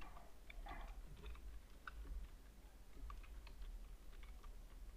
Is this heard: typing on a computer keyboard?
yes